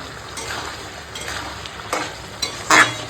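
Garam masala powder being stirred into a vegetarian chickpea and pointed gourd curry in a pan: soft scraping strokes with a light sizzle underneath, building to a sharper clack near the end, with no talk.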